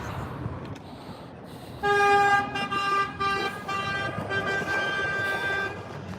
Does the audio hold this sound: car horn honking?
yes